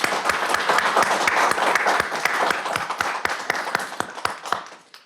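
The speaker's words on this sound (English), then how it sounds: "we want to give him a round of applause as well" Steady applause from a crowd at a Golden Age and Wheelchair Games awards ceremony, with sharp individual claps standing out, holding strong before tapering off at the end.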